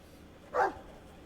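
A single short dog bark in the video game Dragon Age II, one brief moderately loud burst standing alone over a quiet background.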